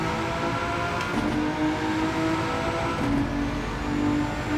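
Engine of the Volkswagen GTi VGT race car in Gran Turismo 7 on a Nurburgring hot lap, a continuous loud drone that rises and dips with revs and gear changes.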